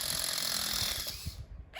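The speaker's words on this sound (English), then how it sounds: "lots of drilling here" A power drill whines at high pitch during a house renovation, then cuts out, leaving scattered knocks and handling noise.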